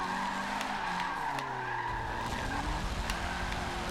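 Tires skid and squeal as a Mitsubishi Evo X drifts in Forza Motorsport 7, a steady screech with engine drone running throughout the clip.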